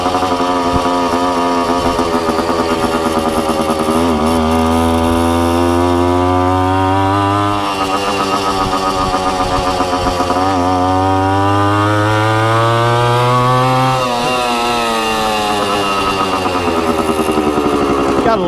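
A Suzuki TC-90 two-stroke motorcycle engine revs loudly and close, its buzzing, raspy note climbing and falling in repeated sweeps with continuous high-pitched whine throughout.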